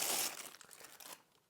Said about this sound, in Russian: классический японский целлофановый, такая ракушечка, да, пакетик